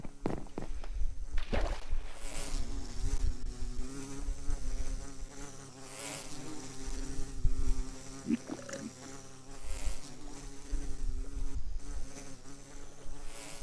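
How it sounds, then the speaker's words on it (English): Bees buzz steadily in the Minecraft video game, a continuous droning hum with wavering pitch that persists throughout, joined by light footstep-like clicks and thuds. "God, this bee's after me."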